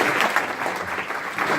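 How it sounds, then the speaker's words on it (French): Audience applause at a round-table event on eyesight in Lyon, a steady dense clapping from a crowd that holds an even level throughout. "Je pense que vous pouvez effectivement l'applaudir également."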